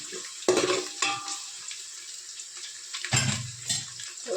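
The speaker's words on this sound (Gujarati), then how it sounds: "ડુંગળી આપણે ગોલ્ડન બ્રાઉન થાય ને ત્યાર લગીને સોતરવા દઈશું એને સરસ રીતે." Sliced onions fry in a pan for akhni, giving a steady bright sizzle, while a spoon stirs them in several scraping strokes. The sound is close, with no talk.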